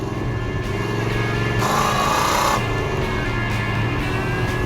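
Dodge Super Bee muscle car, 390 horsepower with 1,350 CFM carburetors, revs hard with a steady loud engine roar that surges to a brighter peak midway before settling back to a strong idle drone.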